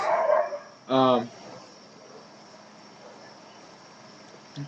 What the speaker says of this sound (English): Freaking dogs.